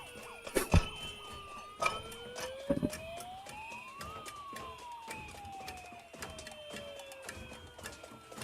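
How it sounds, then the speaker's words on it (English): Police sirens wail, sweeping up and down in pitch, rising and falling slowly over a busy night traffic background in Minnesota with scattered clatter and thumps. "Those whistling siren horns give me a headache"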